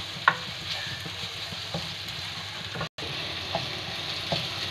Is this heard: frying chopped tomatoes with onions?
yes